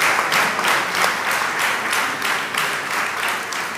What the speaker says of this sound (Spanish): os pido un fuerte aplauso para ellas.